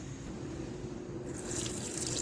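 Steady running water poured off cooked lentils into a vessel, a continuous liquid pour that grows slightly louder and brighter near the end.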